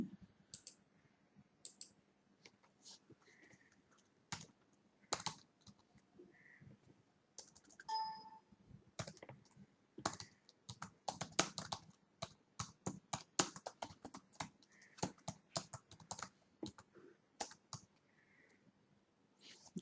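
Typing on a computer keyboard, heard as quick irregular bursts of close, crisp key clicks with short pauses between them and no voices.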